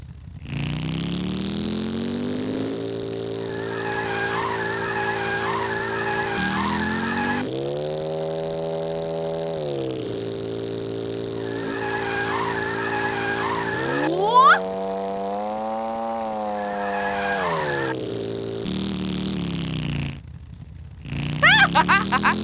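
Racing car engine in the All-Star Fruit Racing video game, droning and revving in long rising and falling waves, with tire squeals from drifting laid over it and a brief burst of harsher noise near the end.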